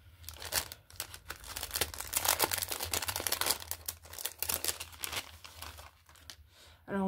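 Thin sheets of paper crinkle and rustle as a mailed package of handmade craft creations is unwrapped, with repeated close crackles and tearing-like bursts continuing steadily throughout.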